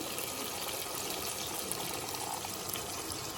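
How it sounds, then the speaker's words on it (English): Water is poured into a pot of cooking tomatoes while fresh Nile perch is being prepared, a soft continuous splashing trickle heard fairly faintly and close, with no speech. "I'm going to add some water."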